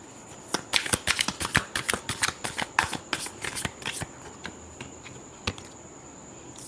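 Tarot cards being shuffled by hand, a fast run of crisp riffling clicks and flaps for about four seconds, then a few isolated card taps, close and fairly quiet with no talking.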